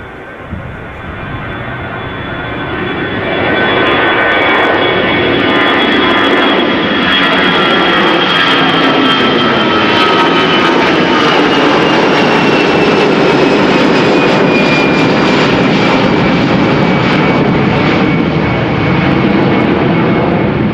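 EasyJet Airbus A320 jet airliner at Amsterdam Schiphol Airport, a loud roaring jet engine sound that swells within the first few seconds and then holds steady with a shifting whine as the aircraft passes nearby.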